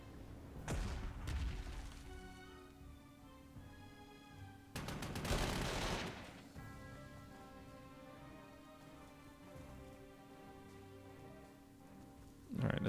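Wartime gunfire from an assault gun attacking an enemy artillery unit in the Panzer Corps 2 strategy game, two heavy booming volleys a few seconds apart with a softer background hum between them.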